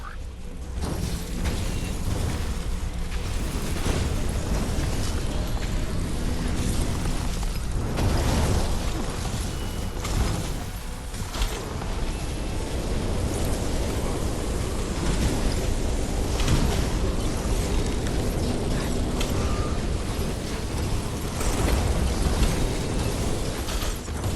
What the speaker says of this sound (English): It was a miracle no one died in the explosion.